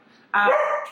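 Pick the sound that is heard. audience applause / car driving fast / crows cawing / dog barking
dog barking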